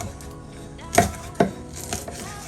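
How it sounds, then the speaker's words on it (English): A knife chopping peppers, seeds left in, on a cutting board: a couple of sharp thuds followed by a softer one, close and clear over a faint background hum. "So let's start chopping."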